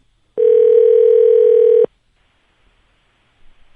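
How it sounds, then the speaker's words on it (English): A telephone tone sounds while a call is being placed, one loud, steady tone lasting about a second and a half before dropping to near silence. "So let me get him on the phone."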